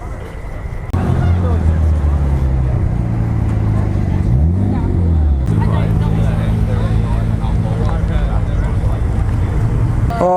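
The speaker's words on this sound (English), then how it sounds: "Oh, the garbage truck." A garbage truck's engine rumbles loudly and steadily nearby at a car meet, rising and settling as it works, with people talking over the noise.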